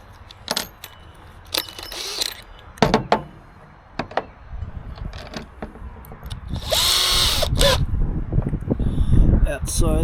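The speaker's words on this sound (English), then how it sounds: "I'm just going to drill a couple of holes." Clicks and knocks of handling tools give way to a sustained mechanical whir, a power drill running into timber, with rattling and a voice in the background.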